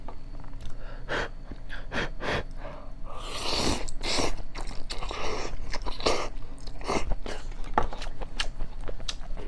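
Chewing a spicy tuna triangle kimbap from a convenience store, with close, soft crunching and biting sounds, mouth noises and breaths repeating steadily throughout, no speech.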